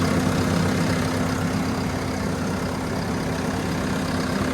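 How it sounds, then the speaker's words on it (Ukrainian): Deutz-Fahr tractor, a 115 hp two-cylinder turbo diesel, idling steadily and quietly at close range with a constant low hum and even, unbroken running, no voices heard. "Тихенька приємна робота цього трактора."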